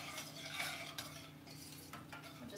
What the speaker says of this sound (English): Give it a stir every now and then.